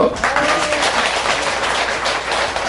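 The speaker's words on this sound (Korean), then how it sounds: "박수!" A crowd at a question-and-answer gathering gives a dense, steady wash of applause that fills the whole moment at close range.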